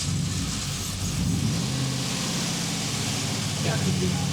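A high-performance tow truck engine with a cracked block runs with an uneven, rumbling rough idle, steady and close, with faint voices mixed in.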